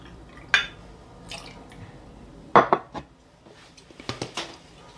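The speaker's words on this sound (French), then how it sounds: "On va y mettre donc du sirop de sucre, donc là 1 centilitre." Sugar syrup goes into a cocktail shaker for an espresso martini, with clinks of glass and metal and small dripping, splashing sounds spread across the moment.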